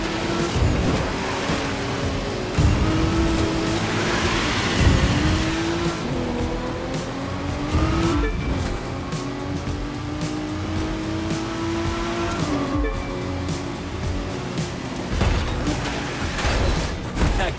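A fast car races in The Crew 2, its engine roaring loud and steady with rising and falling revs through gear shifts, tire squeals cutting in now and then over nearly eighteen seconds.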